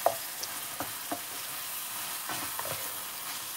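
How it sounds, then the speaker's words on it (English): Chicken tikka ginger curry being stirred and scraped in a pan, a faint low sizzle with soft, irregular scraping strokes of the utensil. "So we're going to stir that and scrape all the lovely caramelised bits back in"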